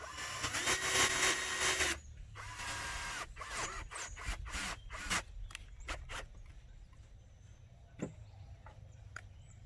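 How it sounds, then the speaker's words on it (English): Power drill driving screws into a wooden board while building a rabbit hutch, a whirring burst up front, then a run of short irregular bursts and clicks, fairly faint and close, with no talk. "I'm going to start the screws in this board and attach it the same way."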